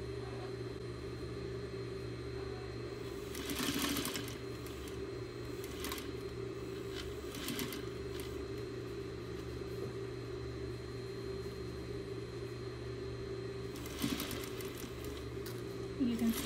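A sewing machine runs steadily, stitching a quarter-inch seam around a fabric cylinder, its motor a constant close hum throughout, with brief rustles as the fabric is shifted.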